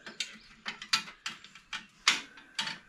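Ratchet wrench loosening bolts on 1930s Agees wolf fenders fitted to a Schwinn Collegiate bicycle, short bursts of sharp clicking ratchet strokes, close and fairly loud with pauses between, no talking.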